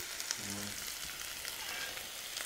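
Onions sweating in a pan over low heat for a West African chicken peanut sauce, a gentle continuous sizzle close by with a faint brief clink, no one talking.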